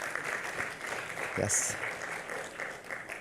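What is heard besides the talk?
audience applause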